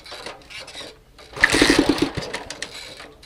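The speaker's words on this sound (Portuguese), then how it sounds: "Tô na moto." Motorcycle engine revving hard in a Brazilian comedy sketch, a buzzy, rough drone that surges up loud and close after a quiet moment and holds with a wavering, sputtering pulse.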